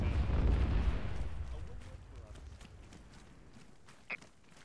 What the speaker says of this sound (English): That's our arty striking it.